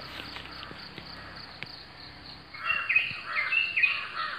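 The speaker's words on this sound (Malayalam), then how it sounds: "അതിരാവിലെ പക്ഷികളുടെ ശബ്ദങ്ങളാണ് നമ്മൾ അധികം കേൾക്കുക" Early-morning birdsong chirps faintly over a steady insect hum, growing louder and busier in the second half, with no talking.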